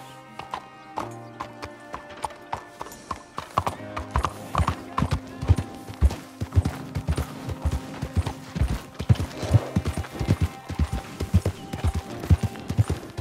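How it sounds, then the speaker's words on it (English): Horse hooves clip-clopping in Red Dead Redemption 2, a steady rhythmic gallop that starts after a few seconds and carries on loud and close, with game music and occasional other sounds around it. "You got a horse? Get on it."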